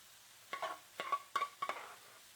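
Vegan gnocchi browning in a frying pan until toasty, with four short bursts of stirring and scraping over a faint sizzle, close and fairly quiet.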